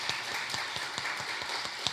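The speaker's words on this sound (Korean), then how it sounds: "잠깐 일어나 주시면은 환영의 박수 해도 될까요?" A church congregation applauds to welcome visitors during a Sunday afternoon service, a steady, fairly even round of many hands clapping close by with no voices over it.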